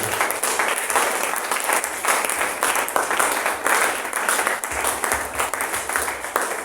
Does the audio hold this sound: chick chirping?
no